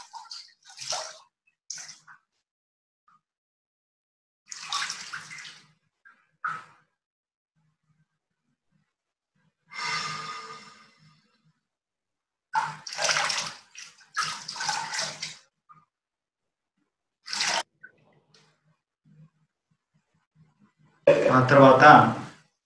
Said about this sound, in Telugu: మనం ఇప్పుడు మన కాళ్ళని పక్కనే ఉన్న జగ్గులో నీళ్లతో ఈ కాళ్ళని కడుక్కొని